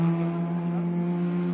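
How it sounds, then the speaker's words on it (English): A Super Touring Under race car engine at the 2016 SCCA Runoffs holds a loud, steady drone with a slight flutter, running continuously and close throughout with no voices. "Just a little flutter, it sounds like, in that engine."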